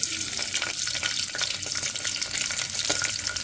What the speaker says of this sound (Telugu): ఇప్పుడు ఉల్లిగడ్డలు మనము రెడ్గా అయ్యే వరకు మనం దీన్ని బాగా వేయించుకోవాలి